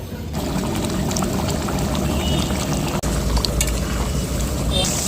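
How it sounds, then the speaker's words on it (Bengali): Hot water pouring into duck curry being cooked down in a pan, a steady broadband wash of liquid and sizzle running continuously throughout at close range. "এবার আমি একটা গরম জল দিয়ে দেবো"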